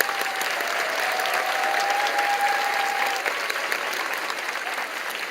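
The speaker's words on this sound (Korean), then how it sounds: "돌아서서 교우들에게 인사하실 때 큰 박수로 환영해 주시기 바랍니다." A church congregation applauds warmly to welcome a leader during a teacher appointment and long-service award service: steady, dense clapping from many hands, fairly even in loudness for about five seconds.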